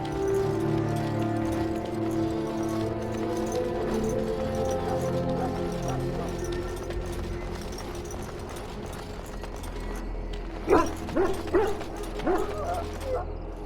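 Hounds in the fantasy video game Dragon Age: Origins, war dogs sick from Darkspawn blood, bark and whimper over a steady ambient game soundscape, with a few louder, sharper barks toward the end.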